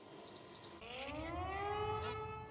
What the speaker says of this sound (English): Here is his favorite watch. It beeps at certain times of the day.